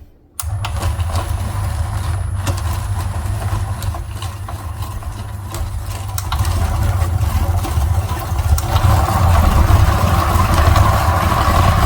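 A small Amazon toy rock tumbler runs with its silencer removed, giving a steady buzzing motor hum with a rattling drone that grows slightly louder and rougher partway through, close and continuous after a brief start.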